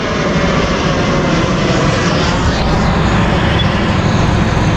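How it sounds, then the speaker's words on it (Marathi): Loud, steady roar of an airplane passing close overhead, a dense continuous engine rumble filling the whole stretch without any voices. "आनीक एक प्लेन"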